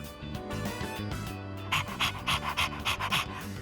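A dog pants in rapid rhythmic puffs over a steady background music bed in the video game Persona 3 Reload, the breathing growing clearer in the second half.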